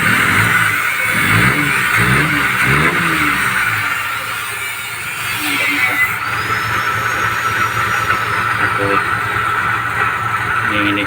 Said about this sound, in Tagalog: Nanginig yung makina.